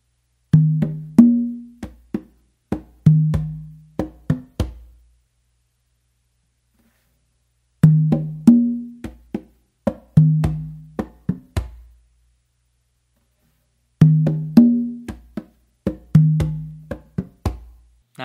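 Yambu pattern played on congas and tumba, three full cycles of sharp open and slap hand strokes with ringing low tones, each phrase about five seconds long and separated by brief silences, close and solo.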